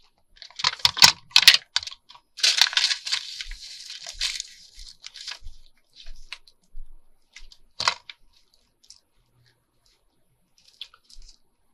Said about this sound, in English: Okay, we're going to cut right along here.